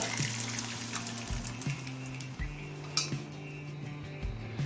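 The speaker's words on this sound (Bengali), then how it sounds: "আর দিচ্ছি মটর সিদ্ধ করা জল" Boiled pea cooking water poured into a pan of sautéed peas, ginger and garlic while making ghugni, a steady liquid splash and trickle over a low background hum, with no talking.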